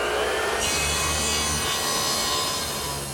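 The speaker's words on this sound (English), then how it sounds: "Now I'm cutting the rails and stiles to length." A saw cuts wooden rails and stiles to length for a CD storage case, a steady sawing and rasping against the wood that runs loud and continuous throughout, with no talk.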